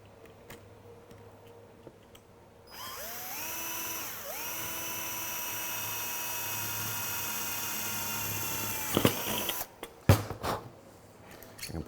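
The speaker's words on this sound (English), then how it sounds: "now I'm going to drill my second hole" A power drill bores a hole through a gate slide guide, with a steady high-pitched whine that rises twice as the bit starts and bites. It runs loud and continuous for about seven seconds before cutting off with a few knocks.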